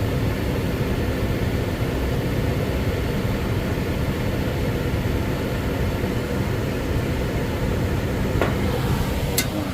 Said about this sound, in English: Got a higher blower speed.